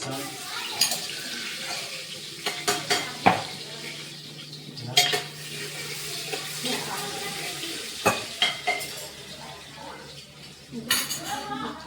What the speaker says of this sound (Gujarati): હવે આપણે નાખીશું એમાં લસણ